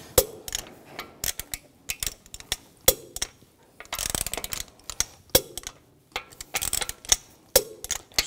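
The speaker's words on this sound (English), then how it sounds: "Now I'm going to torque the lug bolts to 90 foot-pounds in a cross pattern to tighten the wheel down" A torque wrench tightening the lug bolts on a 2004-2009 Audi A4 Quattro wheel, sharp ratcheting clicks and clacks in uneven bursts, close and dry, with metallic rattles between.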